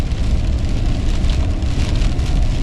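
Steady, dense rain patters loudly on a surface at a beach on the Outer Banks during a November storm, a continuous hiss with no voices.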